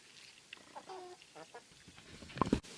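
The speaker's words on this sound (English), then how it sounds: "we've introduced our little lace Wyandotte to the flock" A small flock of chickens, including a newly introduced lace Wyandotte hen, clucking softly in a muddy outdoor yard, scattered quiet clucks with a louder squawk near the end.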